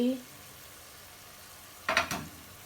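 Ginger, garlic and spices hit hot oil in a pan for a dried fish (shutki) curry, giving a brief, sharp burst of sizzling after a short voice and a quiet stretch.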